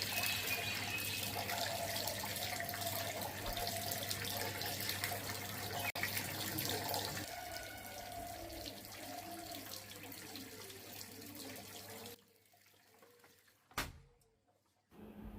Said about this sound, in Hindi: अभी पानी कितना अच्छा आ रहा है देखिए।